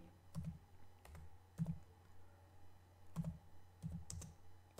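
Someone types a curl command on a computer keyboard, a sparse run of quiet keystrokes in small clusters with pauses between them, close and without talk.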